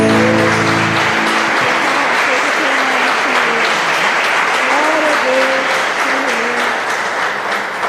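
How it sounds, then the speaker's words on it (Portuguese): A church congregation applauds in sustained, loud, dense clapping that fills the room, with voices faintly audible beneath it. "Vamos aplaudir Jesus"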